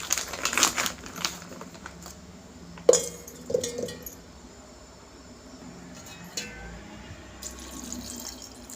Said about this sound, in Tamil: கொஞ்சமாக தண்ணி ஊற்றிட்டு